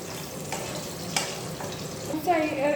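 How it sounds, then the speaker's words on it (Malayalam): Capsicum and garlic sizzle quietly in hot oil in a pan while a utensil stirs them, with soft scraping strokes over a low, steady frying hiss. "ഇനി നമുക്ക് ക്യാപ്സിക്കം വെളുത്തുള്ളി ഇട്ട് കൊടുക്കാം. ഒന്ന് ഇളക്കി കൊടുക്കാം."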